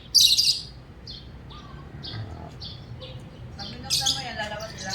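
A pet bird chirps close by: a loud squawky burst, then a steady series of short tweets and a busier flurry of calls near the end over a low background hum.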